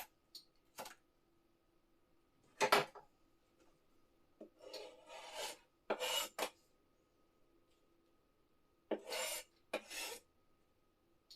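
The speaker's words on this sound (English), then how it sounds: "I think I need to sharpen the knife." Kitchen knife dragged along a sharpener in a home kitchen during holiday food prep, a handful of separate raspy scraping strokes in uneven bursts with quiet gaps between, fairly close and alone.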